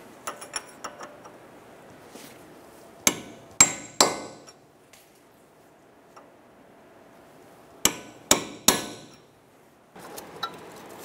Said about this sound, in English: we're gonna use a punch and punch into this little groove here so it can't back off.